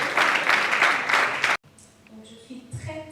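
Loud crowd applause for Linda at the Nzonzing Awards 2022 comedy ceremony swells for over a second and a half, then cuts off abruptly into a quiet room with faint background sounds.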